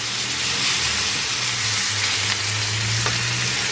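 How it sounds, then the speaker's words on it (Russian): Steady, loud sizzling and hissing of small crucian carp frying in a hot pan over a high flame, continuous throughout with a low hum underneath. "Вовремя я карасиков пожарила."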